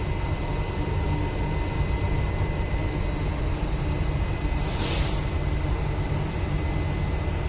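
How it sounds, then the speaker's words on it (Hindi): A Dubai Metro train approaches in a station, with a steady loud rumble and roar throughout and a brief bright hiss burst midway, like an air release. "अब आप इधर से देख सकते हैं एक ट्रेन आ रही है"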